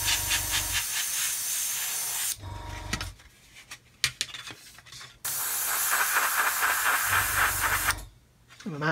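Varnish sprays from an airbrush into the undercarriage bay of a scale model aircraft, several bursts of loud hissing spray separated by short quiet gaps, close and alone.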